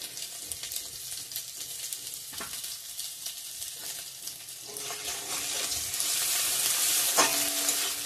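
Onions frying in hot oil with five-spice and crushed ginger, a close steady sizzle with occasional stirring scrapes that swells louder toward the end.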